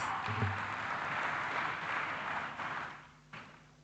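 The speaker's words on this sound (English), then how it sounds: "Can we have a big round of applause?" An audience at a Teachers' Day celebration at Loyola College applauds, a dense, even patter of clapping in a hall that fades toward the end, with a soft thump or two.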